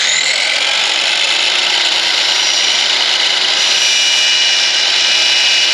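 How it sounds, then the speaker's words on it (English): Power tool tapering the end of a wooden dowel in a shop, a loud steady high-pitched whine of cutting and rubbing that runs continuously for the whole stretch with no talk. "With safety in mind, we will taper the dowel."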